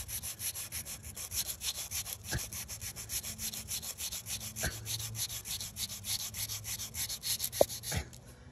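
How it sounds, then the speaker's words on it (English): Repeated rubbing strokes of sanding lacquer off a VW Transporter alloy wheel, a soft steady scratchy rasp close to the mic with a few sharp clicks, no one talking. "taking the lacquer off and getting it back to bare alloy"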